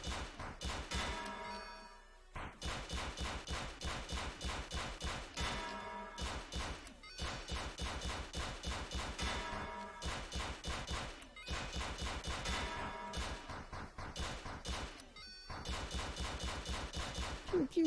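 Video game shooting gallery gunfire, rapid bursts of sharp shots in repeated volleys separated by brief gaps, punchy and close across the whole stretch, with no voices.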